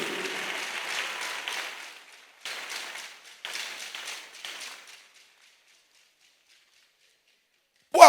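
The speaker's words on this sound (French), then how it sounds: "Est-ce que tu peux encore acclamer ce Jésus?" A church congregation applauds and cheers for Jesus during a French-language service, loud bursts of clapping that fade, return in two more waves and then die away into silence.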